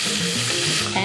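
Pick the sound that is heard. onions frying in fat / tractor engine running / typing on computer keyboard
onions frying in fat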